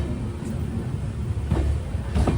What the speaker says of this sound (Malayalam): 8 മണി നാഗപട്ടണം ജംഗ്ഷനിലേക്ക് ഇതാ ട്രെയിൻ എത്തുകയാണ്